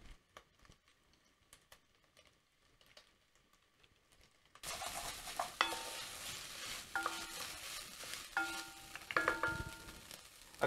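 Beef in a pot for a Finnish shepherd's stew, quiet scattered clicks at first, then a burst of oily sizzling with stirring scrapes and clatter once more oil goes in, close and steady.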